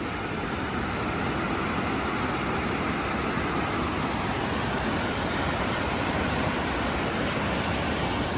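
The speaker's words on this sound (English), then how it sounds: "Looks like we found the rapids." Continuous roar of rushing river rapids at Chutes Provincial Park, a dense even wash of water noise filling the whole span, fairly loud and steady with no voices.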